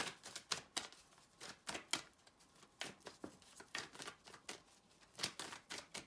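Tarot cards shuffled by hand during a card reading, a steady run of crisp riffling bursts and soft slaps repeating in quick succession, fairly close and quiet with no talking.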